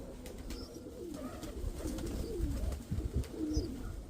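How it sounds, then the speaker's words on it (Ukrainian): Several pigeons settled in a loft coo softly in low, repeated burbling calls that overlap throughout, close by and fairly quiet, with faint rustling and no talk. "Голуби всі сіли"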